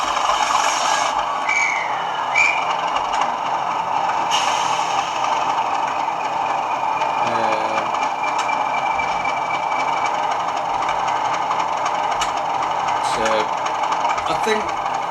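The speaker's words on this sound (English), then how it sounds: "It's got the scraping wheels over the flanges, through points and round corners." Bachmann Class 37 model locomotive in Colas livery running on model track, its wheels scraping over flanges, through points and round corners, giving a steady metallic rolling hiss with squeals, with a voice talking over it throughout.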